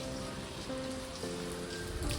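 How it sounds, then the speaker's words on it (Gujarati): Rain falls steadily outside a house, a continuous dense hiss and patter heard alone with no talking. "હજુ વરસાદ ચાલુ જો તમે, હજી પણ વરસાદ ચાલુ."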